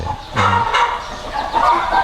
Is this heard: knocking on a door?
no